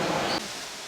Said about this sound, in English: we're in Jesmond Dene and we're beside the waterfall, the famous waterfall